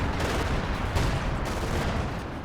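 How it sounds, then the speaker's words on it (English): Gunfire crackles during a bombing run in the World War II strategy game Company of Heroes 2, a dense, continuous battle din with a few sharper bursts standing out, loud and sustained throughout. "Including a bombing run here,"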